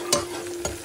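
Onions frying in a pan are stirred twice, each stir a short scraping swish over a steady soft sizzle, close up and with no talking.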